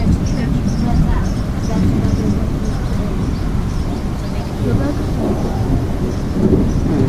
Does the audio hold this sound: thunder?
yes